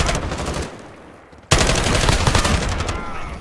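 Gunfire in the Call of Duty video game: sustained rapid automatic bursts, loud and close, that fade briefly and then burst back in harder and keep hammering to the end, with no voices.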